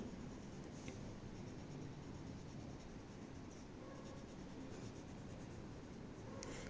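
A pen scratches on paper while drawing triangles, a soft, steady scribbling rustle heard close but quiet for several seconds, with no talk over it.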